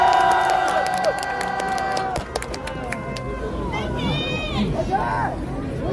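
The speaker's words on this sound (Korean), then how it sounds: "큰 박수 보내주세요." A large outdoor rally crowd in Seoul cheers and shouts, with whistles, tonal horns or sirens and scattered clapping; voices rise and fall in a busy, loud mix.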